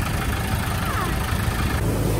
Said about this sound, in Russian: Вот как с утра чистят все на тракторе, чтобы не было водорослей по пляжу